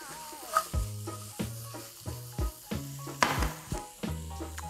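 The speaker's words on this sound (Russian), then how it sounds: "Обжариваем все вместе в течение 2-3 минут." Julienned zucchini and other vegetables stir-fried together in a hot pan, with a soft sizzle under repeated scraping and clanking strokes of a utensil against the pan at an irregular rhythm, fairly close and moderate in loudness.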